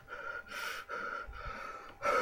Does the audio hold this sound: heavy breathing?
yes